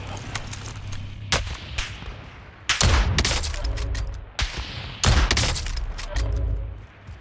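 Video game gunfire in a Call of Duty battle royale match: repeated sharp shots and bursts cluster across the clip, several heavy volleys booming loud over a low rumbling game backdrop, with no talk.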